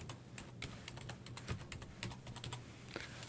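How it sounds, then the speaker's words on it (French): Fingers tap out text on a computer keyboard while adding a text layer in Photoshop, a steady close run of light, quick keystrokes with no voice over them. "Je clique à l'endroit où commence le texte et je le tape."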